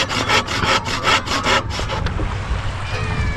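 A hand saw cuts through wood in quick, rhythmic back-and-forth strokes close by, then stops, leaving faint background noise.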